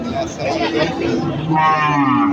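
Cattle moo loudly nearby at a bull and cattle market, several overlapping low calls, with a long drawn-out moo rising clearly near the end.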